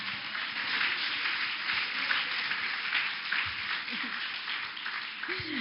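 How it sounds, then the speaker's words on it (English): Audience at a women's summit breaking into steady applause in a large hall, a continuous wash of clapping heard from a distance, with faint voices underneath. "I need a round of applause right now."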